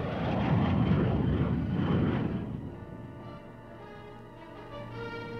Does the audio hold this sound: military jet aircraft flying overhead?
yes